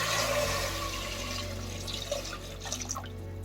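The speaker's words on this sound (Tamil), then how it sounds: "அந்த தண்ணி இப்போது நான் சேர்த்துக்க போகிறேன்." Measured water is poured into a cooking pot for basmati rice, a brief close splashing and gurgling pour that fades into soft drips.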